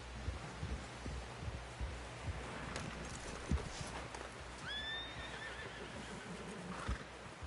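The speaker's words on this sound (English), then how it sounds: "Someone help John down off this horse" A horse in the video game Red Dead Redemption 2 whinnies loudly midway, with clip-clopping hooves and rustling movement throughout, no talking.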